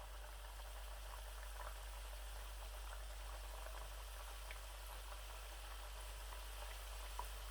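Cooking oil heating in a pan for namak paray gives a faint, steady bubbling hiss with tiny scattered crackles over a low electrical hum, with no one talking.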